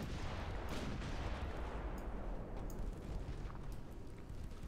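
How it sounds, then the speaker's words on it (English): Naval battle in the warship game Ultimate Admiral: Dreadnoughts as torpedoes are fired: a dense, steady roar of rumbling gunfire and explosions that fills the whole stretch with no pauses. "Oh, we just fired torpedoes."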